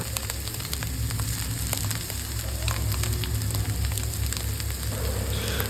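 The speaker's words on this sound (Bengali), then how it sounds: "গাজর আর পেঁপেটাকে হালকা করে ভেজে নেব যাতে এটার কচকচে ভাবটা থেকে যায়" Carrot and papaya pieces fry lightly in a pan for chow mein, giving a steady, dense sizzle with faint crackles that runs evenly throughout at close range, with no talking.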